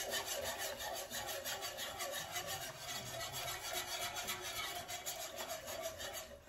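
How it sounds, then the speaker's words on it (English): Whisk stirring beef broth with tomato paste, a close, steady scraping and swishing with quick repeated strokes against the pan, no voices. "Once again, get your whisk."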